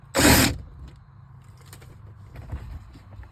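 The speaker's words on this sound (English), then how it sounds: "take our impact with the 7mm and take the screw out that holds the trim piece on" Cordless impact driver fitted with a 7mm socket backing out a trim panel screw during a car stereo upgrade, one loud short rattling burst of about half a second near the mic, followed by faint handling noise.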